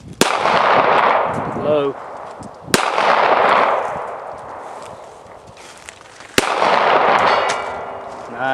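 Rifle shots at a 200-yard outdoor shooting range: three sharp loud cracks spaced a few seconds apart, each followed by a rolling echo, with brief talk in between.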